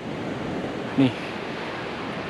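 Ocean waves wash steadily onto the shore beside a beachside campsite in Petchabun, Thailand, a soft continuous surf with a short word spoken once over it.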